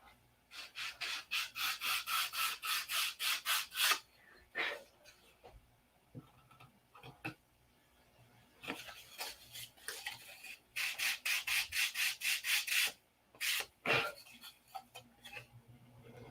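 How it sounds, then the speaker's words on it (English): A small scale-model P-47 fuel line part is sanded to fit, producing steady rhythmic rubbing strokes in long runs with pauses and scattered light taps, close and quiet with no talk. "So we'll sand this to fit."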